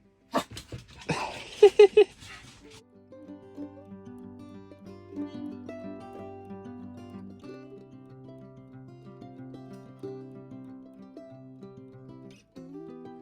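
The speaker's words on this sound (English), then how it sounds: "That's the first bark I've heard." A dog gives a short burst of barks and yips near the start, loud and close, then falls quiet under a steady tonal background.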